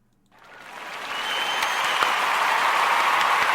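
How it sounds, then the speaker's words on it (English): Applause at a community toast-and-talk gathering starts from silence and quickly swells into a full, sustained round of clapping from the crowd, steady and loud to the end. "let's give them a round of applause"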